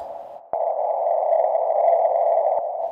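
An ungated high rim percussion track, bandpass-EQ'd, rings as a steady, whistly and harsh midrange tone, beginning with a sudden attack and holding evenly for about two seconds before cutting off.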